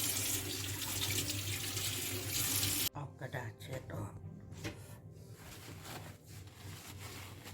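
Marinated zucchini rinsed under a running kitchen tap, a loud steady water rush that cuts off abruptly, followed by softer handling clatter and someone speaking.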